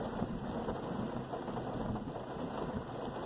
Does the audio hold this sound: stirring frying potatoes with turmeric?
no